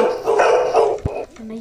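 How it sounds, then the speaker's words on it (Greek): A dog barks in a Minecraft village within a horror-themed playthrough, several yips and barks blending with a person talking over them, followed by one short sharp sound near the end. "Προσέξτε, υπάρχει σκυλί."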